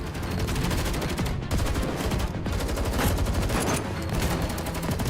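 Sustained loud automatic gunfire from Girls' Frontline 2, dense rapid bursts that barely pause over about five seconds, with a couple of brief dips in the stream of shots.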